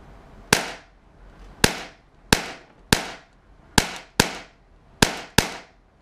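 A Tiberius T8.1 paintball marker firing on HPA at high power, eight sharp, loud shots at irregular intervals, each with a short echoing decay in between.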